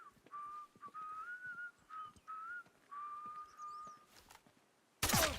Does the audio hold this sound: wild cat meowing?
no